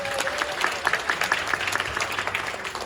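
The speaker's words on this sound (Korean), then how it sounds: "여러분 큰 박수 부탁드리겠습니다" Guests in a wedding hall applaud after the groom's vows, a short burst of clapping with distinct individual claps standing out near the front.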